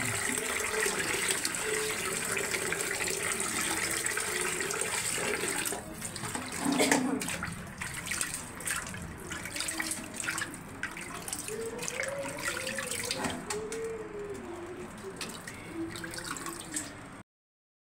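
Raw meat being washed under a running tap, with a continuous rush of water into a sink, splashing and handling sounds over the flow, close by and fairly quiet, no talking.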